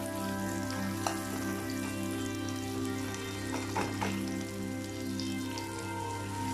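Chopped onion browning in a frying pan, giving a steady, soft sizzle and crackle with a few small pops and no voices.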